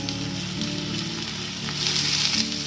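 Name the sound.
fried pointed gourds added to spiced oil, sizzling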